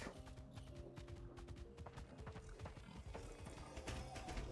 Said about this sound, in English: Horses in this game are not easy to drive.